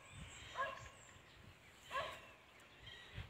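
A dog barks far off along a country road, with a few faint, widely spaced barks drifting over a quiet outdoor background.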